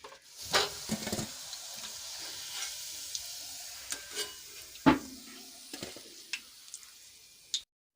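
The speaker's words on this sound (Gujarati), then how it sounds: "હવે એવી જ રીતે આપણે બીજા મૂઠિયા પણ તળી લઈશું" Steady soft sizzle of muthiya dumplings deep-frying in oil, with scattered clicks and scrapes of a utensil, close up and no voices.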